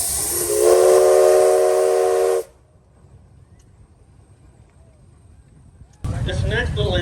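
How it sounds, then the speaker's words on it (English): A steam engine whistle at a steam show blows loud and steady for about two seconds with a bright, harmonic tone, then stops. Quiet follows, and a short burst of talk or noise comes at the end. "How about a whistle there, Barry?"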